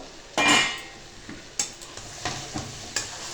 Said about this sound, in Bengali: ভাজা মশলাটা আমি এখন এইভাবে ছিটিয়ে দেবো দিয়ে নাড়াচাড়া করবো